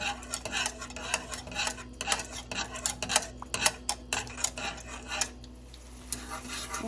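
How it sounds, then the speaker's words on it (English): A spoon scrapes and stirs melting butter in a pot on a stovetop, a steady run of close, rhythmic metallic rubs and clinks with no talking. "So just stir the butter, let the butter melt."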